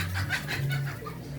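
A chicken in the Philippines clucks in quick, agitated bursts while attacking a dog, close and fairly loud, with no talk over it.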